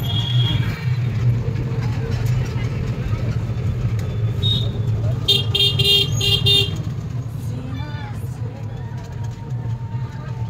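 An empty dumper truck bounces and rattles along a busy road crowded with heavy vehicles, its engine rumbling steadily up close while horns toot in passing and people talk over the traffic noise.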